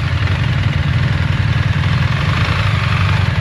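A motorcycle engine idles in a steady, low, throbbing rumble, close by and unchanging throughout, with no voices.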